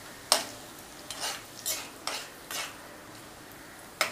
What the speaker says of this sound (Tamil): சோம்பு பொரிஞ்சிச்சு